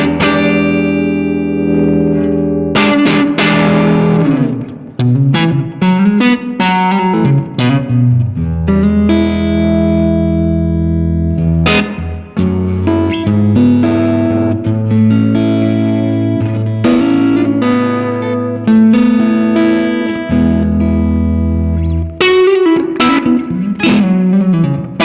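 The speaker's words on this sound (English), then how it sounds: "And then with the boost, full range." An electric guitar played through a Nordvang Skyline boost pedal set to full range, loud, thick and slightly driven chords and notes ringing continuously with sustain and some reverb, no talking.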